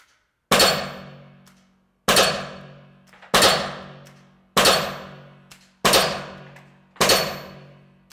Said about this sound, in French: J'ai déjà tiré trois chargeurs de 6 balles.